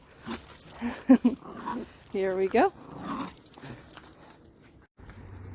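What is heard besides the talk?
dog begging to play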